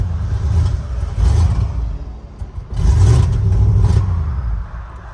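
Chevy truck engine firing and running rough, loud close rumbling bursts that swell, sputter and fade in two uneven surges rather than settling into a steady idle.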